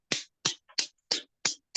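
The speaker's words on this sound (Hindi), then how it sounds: "खूब अच्छे से क्लैपिंग करिए, खूब अच्छे से ताली बजाइए, पूरे भाव के साथ" Hands clapping during a morning yoga session, six sharp claps in a steady moderate rhythm, close and clear with nothing else audible between them.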